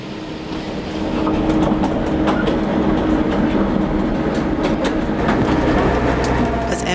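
A small narrow-gauge train with an MK48 locomotive rolls along the Kecskemét line under 20 km/h, with rhythmic clickety-clack of wheels over rail joints and a low engine rumble, loud and close.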